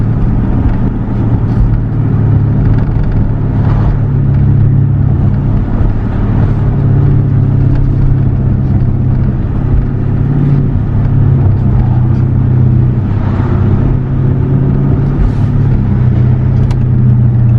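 Loud, continuous 2013 Dodge Charger SRT8 exhaust drone at wide open throttle, with steady low rumble and occasional revs, heard from inside the car without talking.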